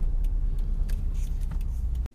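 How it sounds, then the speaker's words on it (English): Subaru car rolling into a garage, a close low engine rumble with faint rattles that runs steadily for about two seconds, then cuts off abruptly into near silence. "Let's pull it in the garage and put on these parts."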